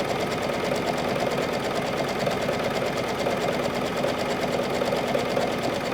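A sewing machine runs steadily, stitching elastic onto fabric along the edge at a 1-to-1 ratio, with nothing stretched; its continuous, close whirring motor and rapid needle rhythm hold the whole stretch without pause.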